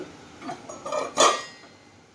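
A lid is lifted off a cooking pot of prawn rezala with a few light metallic clinks and clatters, ending in one sharper, louder clank, close by in a quiet kitchen.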